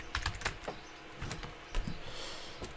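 Quick, light taps on a computer keyboard come in short irregular bursts, close and fairly quiet, with no voice over them.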